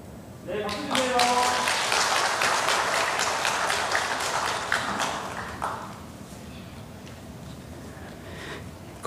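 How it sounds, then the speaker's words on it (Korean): Church congregation applauding during a Sunday worship service, a dense wash of clapping that swells for several seconds and then tapers off, with speech and background voices mixed in. "네, 박수 주세요."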